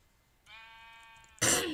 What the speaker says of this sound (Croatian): Sad ja ću ovdje da pobijem te ovce